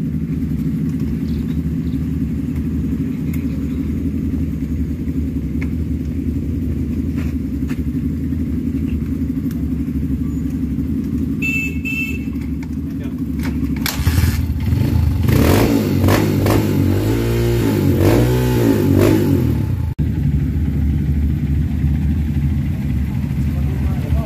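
A motorcycle is started with its electric starter on a rough, extreme trail, first idling unevenly and then revving hard and loud with clattering bursts, with voices talking nearby.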